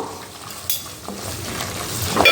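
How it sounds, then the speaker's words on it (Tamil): Tamarind paste (puli kaichal) with jaggery stirred in a pan, with clinks and scrapes of a spoon against metal over a soft bubbling sizzle, close by. "கொஞ்சமாக வெள்ளத்தையும் சேர்த்துட்டு மிக்ஸ் பண்ணி விட்டுப்போம்"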